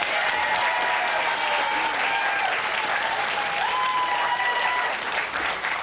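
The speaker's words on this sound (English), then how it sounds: "Please give a big round of applause to Richard Winson." A television studio audience at the Blockbusters quiz show applauds loudly and steadily for the whole stretch, with a few sustained whistle-like tones riding over the clapping.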